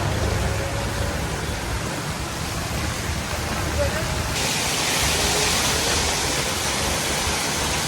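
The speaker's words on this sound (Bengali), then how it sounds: "এত বৃষ্টি।" Heavy rain pours on a flooded city street in Dhanmondi, Dhaka, after three days of nonstop downpour, a loud, steady roaring hiss that fills the whole stretch without letup.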